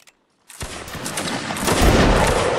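After a brief silence, a line of musket-armed soldiers in the Napoleonic Wars battle game fires a volley: a ragged crackle of many shots that quickly builds into a loud, sustained roar lasting a couple of seconds.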